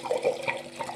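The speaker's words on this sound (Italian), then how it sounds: "non mi resta che versare il contenuto" Alcohol is poured into a jar of peeled lemons to make lemon liqueur, a brief, steady splashing trickle of liquid close by.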